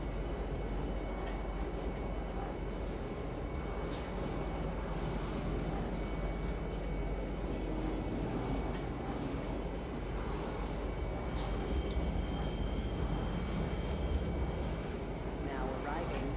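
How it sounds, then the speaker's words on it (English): A metro train pulls into Metro Center station in the Star Citizen video game with a steady rolling rumble and rail noise throughout, a few brief clicks and tones, and a voice making announcements. "Now arriving, Metro Center. Please watch your step when disembarking the train."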